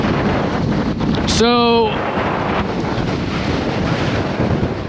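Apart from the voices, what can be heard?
strong wind on Mount Katahdin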